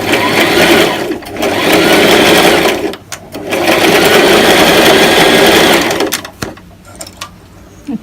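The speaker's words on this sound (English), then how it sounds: "dress under my machine, and now I'm going to stitch" A sewing machine zigzag-stitches jersey fabric for a dress made from T-shirts, whirring loudly and close in several sustained bursts broken by short pauses.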